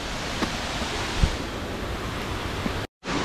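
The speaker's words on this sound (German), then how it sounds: "jetzt sind wir dem Wasserfall sehr, sehr nah" A Black Forest waterfall close by gives a steady, loud broadband rush of falling water with faint wind buffeting. The sound cuts out briefly near the end before resuming.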